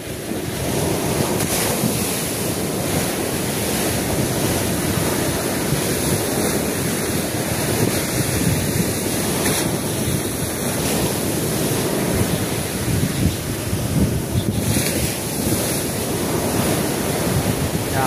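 Continuous surf washing onto the seashore, a broad, unbroken roar mixed with heavy wind buffeting the microphone, steady in loudness throughout with no voices.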